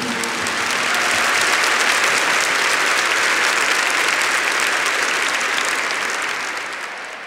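A church congregation at a Christian service claps for a sustained stretch, dense, loud applause that swells quickly, holds steady and then tapers off at the end.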